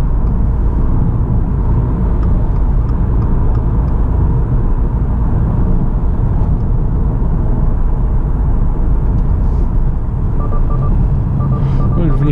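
A 2024 Subaru WRX accelerating hard from 0 to 100 km/h gives a loud, sustained engine and road rumble, droning steadily throughout with a faint beeping near the end.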